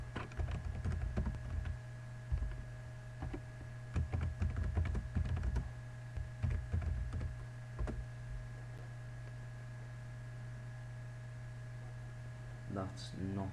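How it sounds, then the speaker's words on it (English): Uneven bursts of clicking on a computer keyboard under a steady electrical hum, close by, then fading to hum alone. "Let me just type it in and see if it comes up."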